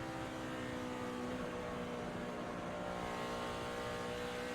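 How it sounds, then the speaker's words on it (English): A NASCAR Cup race car at Texas Motor Speedway holds near full throttle through turns three and four, a steady droning engine roar heard at a distance without letting up. "You'll hear he's not off the throttle almost at all."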